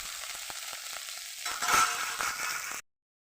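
Cauliflower florets frying in a pan as they are stirred, a soft continuous sizzle with scraping stir strokes growing livelier midway before cutting off abruptly.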